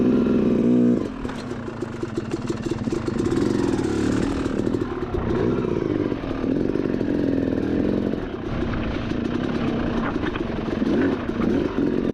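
Yamaha YZ250 two-stroke dirt bike engine on a test ride over bumpy terrain, loud and continuous with revving and shifting throttle, a rattling clatter throughout, no talking.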